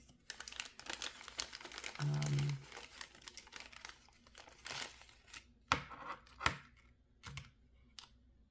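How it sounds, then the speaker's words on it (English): Paper tape crinkling and rustling as it is handled, a steady run of close, dry crackles with a few sharper snaps toward the end. "this is the paper tape that I don't like."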